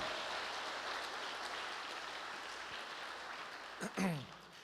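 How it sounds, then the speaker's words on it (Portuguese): Church congregation applauding to the Lord during a sermon, a soft, even patter of clapping that fades slightly before a brief voice breaks in near the end. "Eu daria um aplauso ao Senhor para a glória dele."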